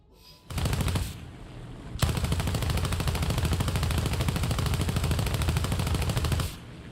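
Aircraft machine gun fire in a video game, two loud sustained bursts of rapid automatic shots, the second lasting several seconds, close and alone.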